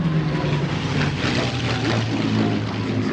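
A Spitfire Mark 9 flying at the Duxford Flying Legends air show, its propeller engine droning steadily and loudly throughout, with a continuous rumbling hum and no voices.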